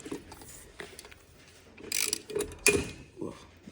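Ratchet working on the wheel lug nuts of a JDM mini truck fitted with dual rear wheels, bursts of clicking and metallic clatter close by, louder near the end, going in a star pattern and not at full torque.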